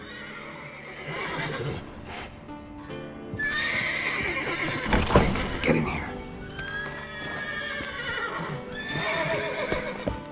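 Agitated horses in The Witcher 3 give repeated loud whinnies and snorts with shuffling hooves in a stable. A voice speaks briefly over the noise.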